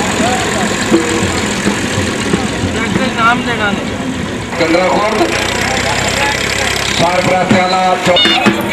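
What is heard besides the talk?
tractor engine running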